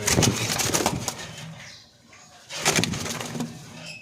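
Jalali pigeons coo and flutter close by in two loud bursts separated by a quieter gap, with wing-flapping mixed into the calls.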